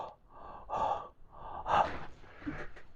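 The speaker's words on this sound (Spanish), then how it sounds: "Si realizas una respiración bucal" A deliberate mouth-breathing demonstration, with three loud breaths drawn in and pushed out through the open mouth, close to the microphone, each with a gasping, airy rasp and no talking.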